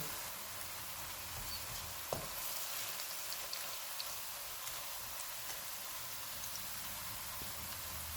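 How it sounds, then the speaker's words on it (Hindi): Ginger garlic paste fries in a pan with a steady, soft, hissing sizzle that carries on unbroken, with a faint tap of utensil near the start and no talking. "एक टेबलस्पून अदरक और लहसुन का पेस्ट डालेंगे और इसको 2 मिनट तक भूनेंगे"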